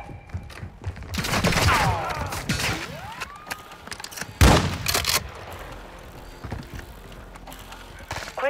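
Gunfire in Call of Duty: Modern Warfare II, scattered sharp shots and a loud burst amid clanking gear and game effects, with a voice speaking briefly.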